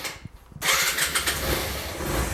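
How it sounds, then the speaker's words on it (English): A Suzuki RV125 VanVan motorcycle engine starting in neutral, a brief cranking stutter then catching abruptly into a loud, steady, rough idle that runs on close by. "My lovely assistant will pull the clutch whilst I get it started in neutral,"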